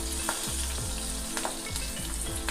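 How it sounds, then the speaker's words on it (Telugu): Dried red chillies crackle in hot oil for a temple-style tamarind rice tempering, a loud, dense sizzle up close with repeated scraping stirs at a steady pace and no voices. "ఇప్పుడు తుంచి వేసుకోవాలి ఎండుమిర్చి దీంట్లో"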